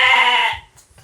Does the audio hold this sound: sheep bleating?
yes